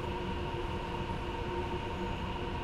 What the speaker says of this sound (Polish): Nas mija pociąg regionalny, dwupiętrowy, z lokomotywą BR-146 na końcu, która napędza cały ten pociąg.